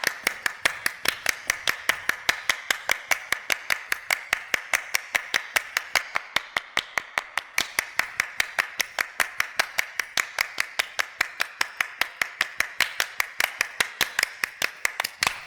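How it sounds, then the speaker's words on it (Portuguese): Hands clap in a steady, even rhythm for about fifteen seconds, each crisp slap clearly separated and close by, with no voices over them. "Mãos batendo palmas."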